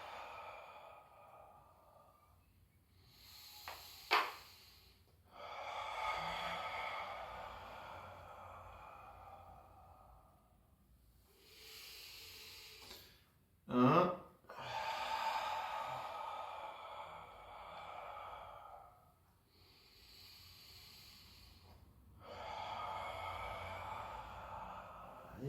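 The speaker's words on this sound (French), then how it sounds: "Inspire, je me grandis." Slow, deep breaths in and out during a guided relaxation and stretching exercise, several long broadband breathing swells spaced several seconds apart, close and fairly quiet, with a sharper snort-like intake in the middle.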